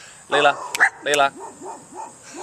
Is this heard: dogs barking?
yes